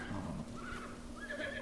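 A horse in The Legend of Zelda: Breath of the Wild whinnies with rising, wavering calls over a quiet in-game background, brief and moderately faint.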